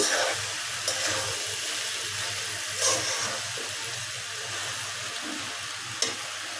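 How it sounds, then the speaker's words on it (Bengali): Spiny gourd (kakrol) masala bhaji frying in a pan, a steady sizzle with occasional stirring scrapes and clinks, continuous and fairly close. "তবে এভাবে ভাজতে ভাজতে লাল লাল করে নিব"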